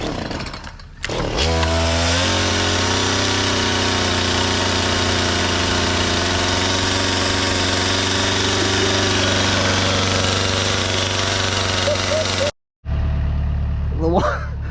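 STIHL chainsaw engine pulled to life, then running loud and close with a rough, buzzing idle and rattling revs for about ten seconds before cutting out briefly and restarting, with voices in the background.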